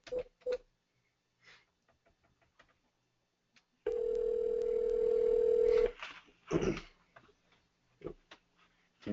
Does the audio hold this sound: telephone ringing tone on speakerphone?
yes